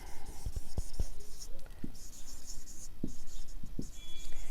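Pen or marker scratching across a board or paper while a math solution on surface integrals is written out, with short sharp taps and strokes in an irregular rhythm, close and clear without talk.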